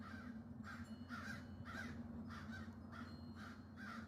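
Crows in a tree give harsh warning caws at a hawk or eagle. About seven caws sound in a steady rhythm roughly every half second, moderately distant, over a constant low background hum.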